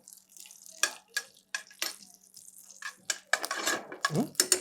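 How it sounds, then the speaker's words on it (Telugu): Slit green chillies frying in a pan for chana dal biryani, with sharp spatula scrapes and clinks in short bursts over a faint sizzle, heard close and with no talk. "కొద్దిగా పచ్చిమిర్చి, నిలువుగా కట్ చేసిన పచ్చిమిర్చి, పచ్చిమిర్చిని మంచిగా ఫ్రై చేసుకుందాం."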